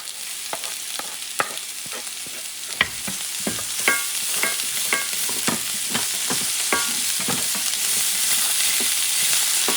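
Garlic frying in olive oil in a pan with sofrito for arroz con salchichón: a steady close sizzle runs throughout, broken by frequent scraping stirs and clinks of a utensil against the pan, with no talking.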